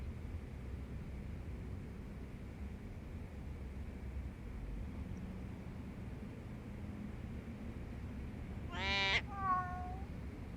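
A cat meows twice in a video game, a short bright meow near the end followed by a softer one, over a low steady background hum.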